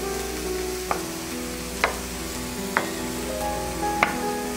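Eggplant frying in a pan for a Vietnamese stir-fried tofu dish, with a steady close sizzle and a few sharp clicks of a utensil against the pan, no voices.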